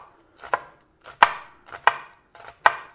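A knife chops onion on a cutting board for a Swedish shrimp salad, four crisp, evenly spaced close thuds, each with a short softer lead-in, with no talking.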